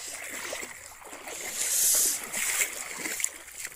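Water splashes and sloshes in a river during fishing with a plate in the Konkan region, a steady wash with a louder, brighter surge in the middle and faint voices in the background.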